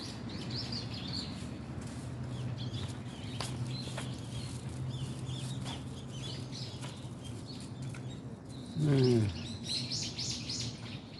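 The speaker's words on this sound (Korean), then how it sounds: "나무가 있으면 새들이 이렇게 즐겁죠" Birds chirp among trees, with small calls scattered through a steady outdoor hiss and one louder, descending call near the end.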